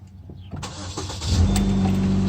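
A 2007 Chevy Malibu with a rough idle is started up: the starter cranks briefly, then the engine catches and settles into a loud, steady idle, close to the microphone.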